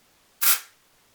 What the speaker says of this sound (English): That is a wicked aggressive spray on that though.